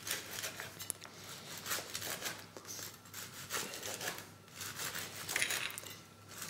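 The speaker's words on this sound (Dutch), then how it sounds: "ik zal het brood snijden" Bread is sawn with a serrated knife in a kitchen, giving quiet, rhythmic rasping strokes close by with no talking.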